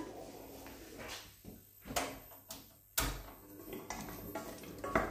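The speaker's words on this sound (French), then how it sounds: "Je vais faire revenir mes légumes." Vegetables sautéing in olive oil in a pan, heard as irregular clatters and scrapes of a utensil against cookware with a soft background hiss, fairly quiet and close.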